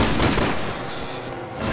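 Rapid gunfire in Resident Evil 6, a dense burst of shots that stays loud and continuous for under two seconds, with a few heavier thuds mixed in.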